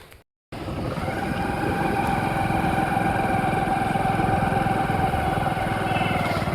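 After a brief silence, a motorcycle engine starts running. It holds a steady, close, rumbling drone at an even pitch until the end, and no one talks.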